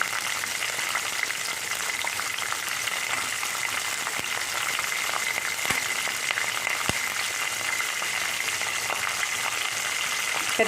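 Green chillies frying in oil for an aloo brinjal curry give a continuous, even sizzle and crackle with occasional sharper pops, steady in level from start to finish.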